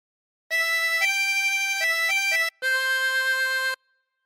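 Tremolo harmonica with 16 holes playing a short Amazing Grace phrase, a few bright wavering reedy notes in sequence with a brief gap before a final held note, clear and close, no talking.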